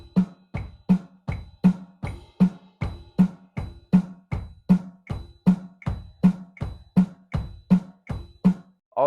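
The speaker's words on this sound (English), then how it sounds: "This beat is called the traditional blast beat." A traditional blast beat played on a drum kit with both feet in eighth notes, ride bell on top, knocks along in an even, steady pulse of about two strong hits per second, close and clear with no talking.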